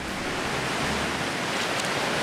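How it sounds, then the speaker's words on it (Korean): East Sea surf rolls in along the Sokcho coast in Gangwon-do, a loud, steady broadband wash of breaking waves with no voices over it. "파도 소리에 이끌려 향한 곳은 바로 동해를 품은 바닷길"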